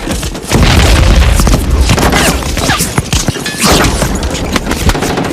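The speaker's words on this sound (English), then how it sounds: "What you just saw is a perfect example of high-velocity lead poisoning, or more simply, gunfire." Dense war-movie gunfire from Saving Private Ryan: loud, continuous bursts of rifle and machine-gun shots mixed with heavy booms and impacts, with no let-up.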